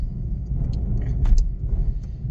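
A Rambler car's engine idles with a steady low rumble close by, a faint metallic jingle briefly rising above it near the middle, and no one talking.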